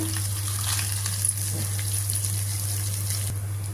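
Soft, steady sizzle of urad dal, mustard seeds, cumin, dried chillies and asafoetida tempering in hot oil over a constant low hum, close and even, with no voices.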